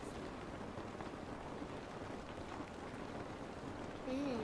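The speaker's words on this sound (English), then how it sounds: "Oh, look, we're going out into the rain." Steady rain falls in the video game The Last of Us, a dense, even hiss holding at the same level throughout with no voices over it.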